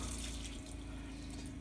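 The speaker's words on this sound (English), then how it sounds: "so now I'm adding water, and it takes about 4 gallons minimum is what I found to fill this up." Water pours steadily into an off-grid washing machine inside an RV, a continuous close splashing and gurgling fill with no pauses.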